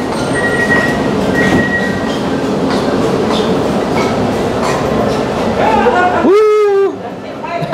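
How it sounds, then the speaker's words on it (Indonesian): A new MRT Putrajaya Line Phase One train runs loudly with a steady rumble and rail clatter, ending in a rising electric whine as it pulls away; a voice speaks briefly over it. "Yalah, train baru."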